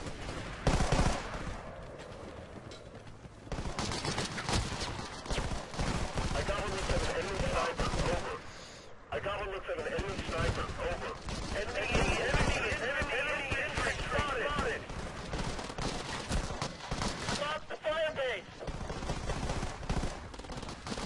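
Rapid bursts of MK5 submachine gun fire in a combat video game, repeated volleys against a busy, steady game soundscape with a voice talking over much of it.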